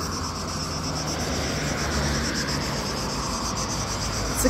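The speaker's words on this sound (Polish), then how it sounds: "Cykady po prostu szaleją." Cicadas drone loudly and steadily in summer Croatia near Tučepi and Podgora, a dense continuous buzzing chorus with a faint rumble of traffic underneath and no talking.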